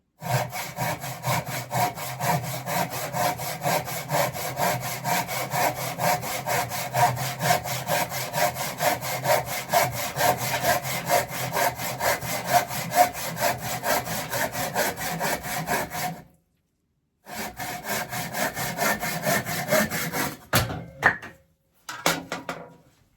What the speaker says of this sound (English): I'm going to have to cut this by eye, or by saw.